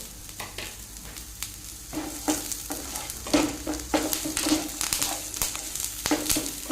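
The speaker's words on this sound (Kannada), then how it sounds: "ಸ್ವಲ್ಪ ನಾನು ಇಲ್ಲಿ ಗೋಡಂಬಿಯನ್ನು ತಗೊಂಡಿದ್ದೇನೆ ಅದನ್ನು ಇದಕ್ಕೆ ಹಾಕಿ ಫ್ರೈ ಮಾಡ್ತೇನೆ" Cashews with whole spices, cinnamon, cloves, cardamom, fennel and fenugreek, frying together in oil in a pan, a close crackling sizzle broken by repeated sharp spoon scrapes and stirs at an uneven rhythm, nobody speaking.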